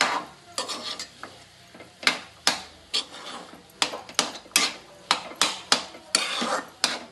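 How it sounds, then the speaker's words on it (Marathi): Potato vegetable filling with turmeric being stirred in a pan: a dozen or so close, sharp scraping strokes of a spoon against metal in an irregular rhythm, heard alone. "चांगली अशी हळद मिक्स करून घ्यायची भाजी"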